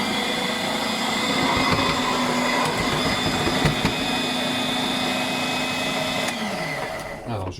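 A food processor chops almonds, flour and other ingredients in a steady, loud whirring drone that winds down near the end, with no talk.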